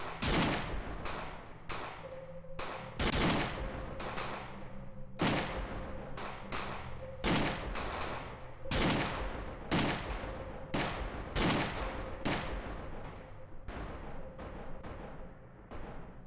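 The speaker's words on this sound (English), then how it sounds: "someone has found one of the sniper rifles" Sniper rifle fire in a VR roleplay game, sharp loud shots cracking out roughly every second with a steady background hum underneath, repeating across the whole stretch.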